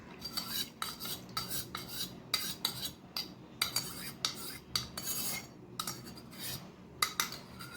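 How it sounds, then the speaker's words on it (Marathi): A spoon stirs first-extract coconut milk into sugar-sweetened milk for tender coconut ice cream, giving repeated scraping clinks against the bowl in an uneven rhythm, close by and fairly quiet. "आता त्याच्यामध्ये हे नारळाचं दूध हा जो फर्स्ट एक्स्ट्रॅक्ट आहे हा मी मिक्स करतो आहे"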